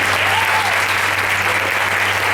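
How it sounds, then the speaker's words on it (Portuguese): An audience at an Easter stage show applauds steadily, a dense and even wash of clapping that holds at the same level throughout with no voices over it. "Vamos aplaudir, por favor."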